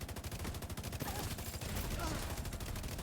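Dense, continuous gunfire from The Division 2, with rapid repeated blasts and shotgun shots layered over one another through a short, busy firefight.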